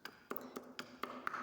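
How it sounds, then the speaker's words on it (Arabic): Peeled fresh ginger is pounded in a mortar, giving about six sharp, evenly spaced knocks, close and fairly loud, with no voices. "نجلفوه ونديروه فشي حاجة وندقوه مزيان حتى يدق مزيان"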